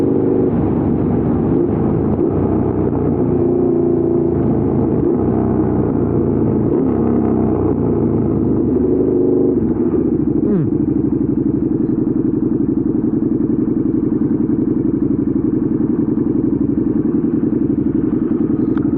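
A 2014 KTM 1290 Super Duke R engine drones steadily at low revs while riding around town, with occasional clunks and thumps from the road, no talking.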